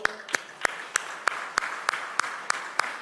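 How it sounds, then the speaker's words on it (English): An audience at the FICCI Frames industry event inauguration claps in a steady unison rhythm, about ten sharp, evenly spaced claps over a softer wash of scattered applause, with no talking. "A round of applause for us all."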